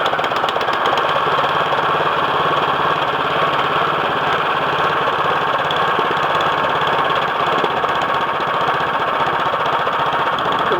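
An MTD 179cc lawn mower engine runs with the choke on, a steady loud idle with a fast chugging pulse that holds unchanged throughout, with no talk over it.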